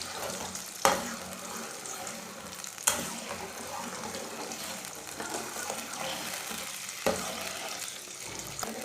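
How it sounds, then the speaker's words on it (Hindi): Sugar being stirred into hot oil with water for makhandi halwa, soft sizzling and scraping in a pan with a few sharp clinks of the spoon against the pot, fairly quiet and close. "चीनी को अच्छी तरह मिक्स कर लेंगे ऑयल में।"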